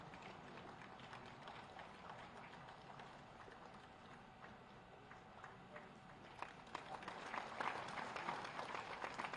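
Audience applause at a state teachers' award ceremony honouring 94 teachers on Teachers' Day, steady faint clapping from a crowd that grows louder and fuller toward the end.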